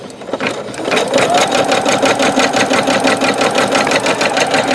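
A Singer Futura Quintet sewing machine stitches embroidery with metallic thread, a steady rapid mechanical whirring and ticking that starts after a brief pause and runs loud and even to the end, with no talk.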